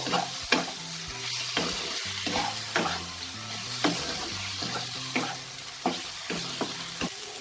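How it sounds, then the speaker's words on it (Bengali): Fried eggs are stirred into biryani masala in a sizzling pan: a steady frying hiss runs throughout, punctuated by regular spatula scrapes and taps up close, with no voices. "মশলাটার সাথে আমি খুব ভালো করে ডিমটাকে মিশিয়ে নিয়েছি"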